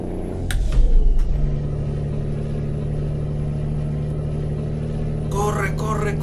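Engine of a Mercedes-Benz L 1620 truck hauling fresh fruit in Brazil, a steady, low drone that swells briefly at first and then holds even, with someone speaking over it.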